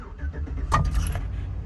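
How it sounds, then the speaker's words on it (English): A Chevrolet Tahoe with an LS engine, running badly with its check-engine light on, cranks and catches. A short whir and a burst of starting noise come after some rustling inside the cab. "I'm going to get in here and crank it up"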